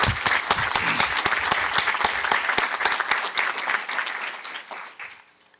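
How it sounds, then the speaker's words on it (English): Audience applause at a university commencement ceremony, a dense burst of many hands clapping that carries steadily and then tapers off toward the end, with no voices over it. "Let's give them another round of applause."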